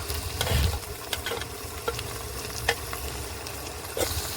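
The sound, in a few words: spice paste and tomatoes being sautéed in a pan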